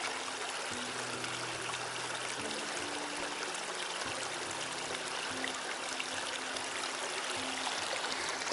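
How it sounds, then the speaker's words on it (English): A mountain stream flows and trickles steadily in the misty Olchon Valley of the Black Mountains, a constant close wash of water with a faint low hum underneath, no voices. "another water zone, more water sounds."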